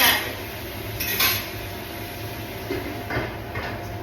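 A lid goes onto a cooking pot of beef curry with a few light metallic clinks and a short scrape, set against a steady background hum in a home kitchen.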